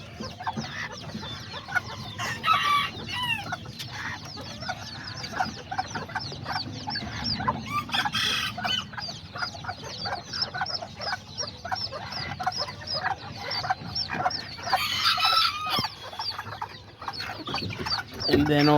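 Chickens clucking steadily around a mother hen with three chicks about two weeks old, with occasional nearby rooster crowing and bird calls over a constant farmyard background.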